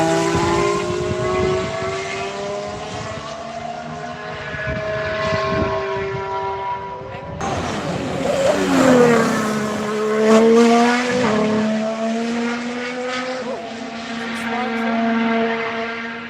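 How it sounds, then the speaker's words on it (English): Renault and McLaren Formula 1 cars exit the pits side by side at dusk. A high, wailing engine note is joined midway by a second car's louder scream, with pitch sweeps as the two accelerate past nearby. "Here comes the Renault, coming side by side with the McLaren out the pits."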